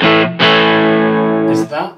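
An electric guitar chord rings out boosted and slightly gritty, sustaining for over a second after a quick strum, with a few words spoken at the end.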